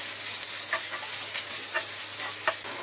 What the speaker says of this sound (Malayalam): ഹൈ ഫ്ലെയിമിൽ കിടന്നാലേ വെജിറ്റബിൾസൊക്കെ നല്ല ക്രിസ്പി ആയിട്ട് കിട്ടത്തുള്ളൂ